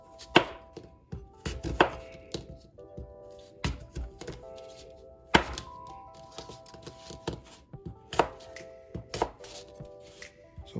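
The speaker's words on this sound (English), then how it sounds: "the first thing we're gonna do is cut these apples up" A knife chops apples on a cutting board for homemade cider vinegar, with a series of sharp, irregular thunks close by. The strokes come in uneven clusters with short pauses between them, and nobody speaks.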